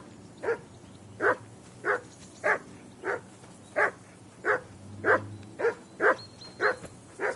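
Dog barking in Kingdom Come Deliverance 2: a steady series of about a dozen evenly spaced, fairly loud barks over low background ambience, with no speech.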